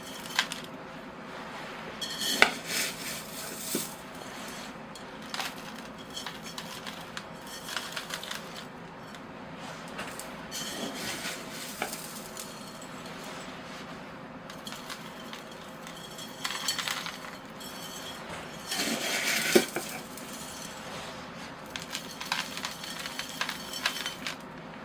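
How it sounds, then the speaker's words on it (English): Gritty bonsai soil is worked into a pot around a dawn redwood's roots, giving close scraping, rattling and clinking bursts at irregular intervals with quieter gaps between. "I just lift the tree a bit as I'm working the soil in to make sure the roots are flowing"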